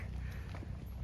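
Dairy cows come in from pasture, hooves clopping and shuffling in a loose irregular rhythm over steady low outdoor rumble and background noise.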